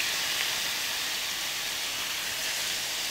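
Soaked glass noodles hit hot cooking oil in a pan while japchae is made, giving a steady, loud, close sizzling hiss that runs unbroken for the whole stretch with no voices.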